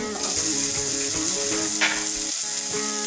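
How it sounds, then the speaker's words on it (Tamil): Green chilli, carrot and vegetables sauté in oil in a pan for foxtail millet upma, giving a steady, close, continuous sizzle with faint stirring scrapes throughout. "பச்சை மிளகாய் வதங்கிடுச்சு"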